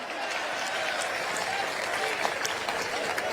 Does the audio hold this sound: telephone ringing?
no